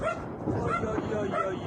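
A dog barks and yelps in reaction to explosions during the war in Ukraine, several short excited barks and whimpers close by over a continuous background rumble.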